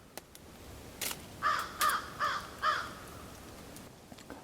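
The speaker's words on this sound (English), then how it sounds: "Hear the crows?" Crows in a wooded lakeside camp in Sam Houston National Forest, a run of four distinct caws in quick succession at moderate distance, with faint other bird calls before and after in a quiet setting.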